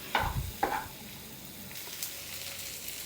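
Sweet corn stirred in melted butter: two quick scraping stirs up close, then a faint, steady sizzle hissing on alone.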